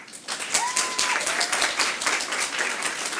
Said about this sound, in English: I just want to ask that you give them a round of applause.